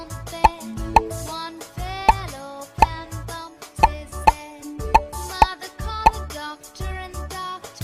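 Cartoon bubbles popping one by one as they are tapped in a children's game, about a dozen crisp plops spaced irregularly over a light musical background, no voices.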